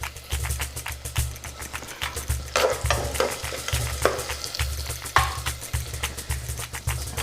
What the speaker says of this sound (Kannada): ಸೊ ಇವಾಗ ಸ್ವಲ್ಪ ಕರಿಬೇವು ಸೊಪ್ಪು ಹಾಕ್ತಾಯಿದ್ದೀನಿ.